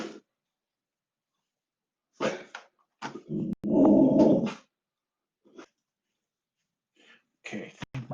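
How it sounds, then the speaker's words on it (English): A dog gives several short, gruff barks and growls in scattered bursts, separated by stretches of silence. "I think my dog's done barking"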